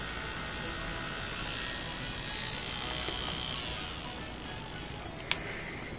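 An electric nail drill runs at 80,000 RPM, giving a steady, thin high-pitched whine with a faint hiss underneath, constant and moderately quiet, with a brief sharp click near the end.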